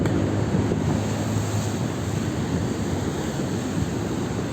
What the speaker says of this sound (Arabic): الموج شديد النهاردة يا شباب، طالع لحد الرصيف بره الموج